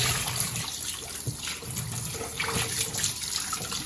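Tap water runs steadily into a sink while oxtail pieces are rinsed for Trinidad-style cooking, a moderate continuous splashing and trickling with no talking.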